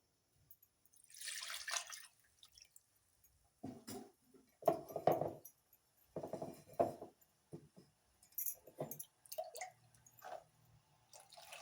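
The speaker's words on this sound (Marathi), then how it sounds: "अजून मी थोडं पाणी टाकणार आहे" Water is poured into a cooking pan for a Malvani-style mackerel curry, splashing in short, separate bursts with quiet gaps between, close by and fairly soft, with no talking.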